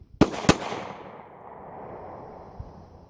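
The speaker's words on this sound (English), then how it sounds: "That was two pretty quick shots." Two quick 9mm handgun shots fired in rapid succession at close range, each a sharp loud crack, the pair followed by a fading outdoor echo tail.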